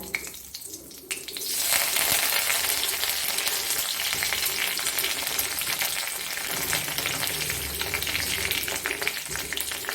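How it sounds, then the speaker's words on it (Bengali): Dried red chillies and curry leaves dropped into hot oil in a kadai, a quiet start that bursts into a loud, sustained crackling sizzle close up, steady to the end with faint stirring, nobody talking. "তাতে আমি দুটো শুকনো লঙ্কা ফোড়ন দেব আর অল্প একটু কারি পাতা দেব"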